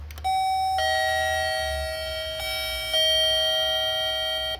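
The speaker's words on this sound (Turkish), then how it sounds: "Bakalım diyafon sesi de değişmişti" An apartment building intercom door chime rings out a sustained tone, repeating in a few successive electronic ding-like steps, clear and close with nothing else around it.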